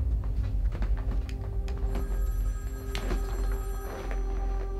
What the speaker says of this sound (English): We got a phone call, Ben.